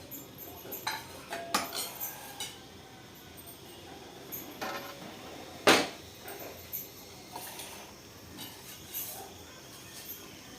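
A steel pressure cooker holding dal in water is set up on a home kitchen stove, producing scattered metallic clinks and clatters of pot and lid, with one sharp clang.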